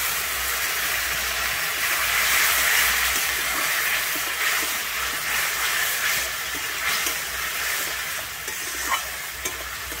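Water poured into a pan of spice masala with turmeric for a Bengali fish curry with potato and cauliflower, raising a loud, steady hiss and bubbling sizzle that continues without a break.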